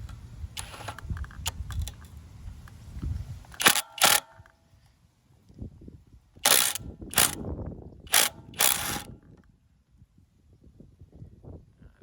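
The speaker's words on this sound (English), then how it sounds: "you'll need an extension and a 10mm socket to take off the 2 main bolts that holds the carburetor to the actual intake" Ratcheting socket wrench with an extension and 10mm socket loosening tight carburetor bolts on a trashed pressure washer, several short clicking bursts close up, separated by pauses and handling noise.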